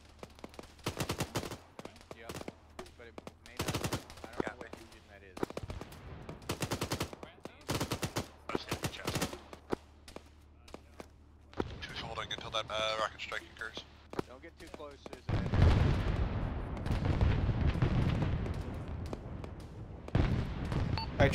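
Air support rocket and gun strike in the video game Arma 3: sharp bursts of gunfire and impacts repeat through the first half, then a denser rumbling barrage of explosions fills the end, with voices on radio chatter.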